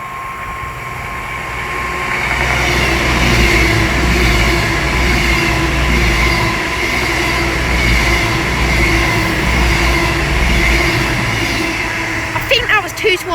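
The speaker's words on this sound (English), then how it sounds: "The next train to pass by is going to be an Avanti West Coast pairing of Class 2-1 Super Voyagers" A pair of Avanti West Coast Class 221 Super Voyager diesel trains passes through Milton Keynes Central on the West Coast Main Line, a loud rumbling roar with engine drone that builds, holds steady, then tails off.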